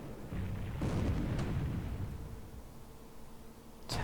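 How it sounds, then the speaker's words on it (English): Battleship guns fire in the War in the Pacific game, a deep, muffled boom rumbling for a couple of seconds with a second heavy thump, followed by a sharp burst at the end, at moderate loudness. "There we go, the battleships are shooting now."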